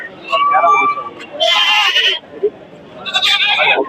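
Goats bleat at a Saturday goat market in Ettayapuram, with several loud close calls in bursts, mixed with people talking nearby.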